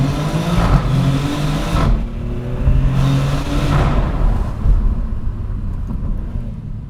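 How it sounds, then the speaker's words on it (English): A Maserati GranTurismo Trofeo accelerating hard through a small tunnel, engine roaring loud and close with reverberation, pitch climbing through gears with sharp barks on each upshift before easing off. "Definitely has a pretty aggressive bark on those upshifts"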